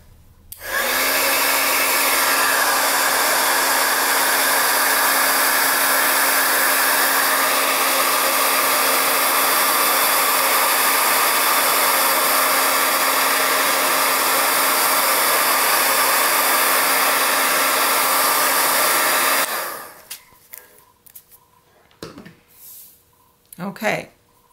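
A hair dryer blows steadily on watercolor landscape paint, a loud, close, continuous whooshing roar that runs for about twenty seconds before cutting off, followed by brief handling knocks and rustles.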